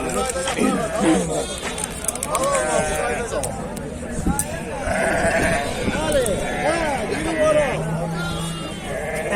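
Lambs bleating repeatedly among a crowd at an outdoor sheep market in Füzuli, Azerbaijan, several near and far calls overlapping with constant people talking and bargaining.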